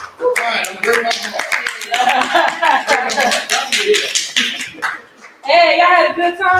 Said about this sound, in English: So if y'all can start clapping right now